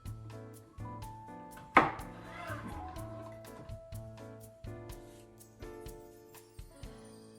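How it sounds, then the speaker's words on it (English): A knife chops vegetables for japchae on a cutting board in a steady rhythm of crisp, close knocks about twice a second. A soft background melody plays underneath and one louder clack sounds early on. "If you cut them this size, they're a bit too thick, so make sure to cut them in half again."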